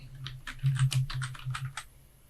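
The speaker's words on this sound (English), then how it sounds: "I have just typed in New York," Someone types on a computer keyboard while entering text in Photoshop: about a dozen quick, close key clicks in an uneven burst, then the tapping stops, with no voice.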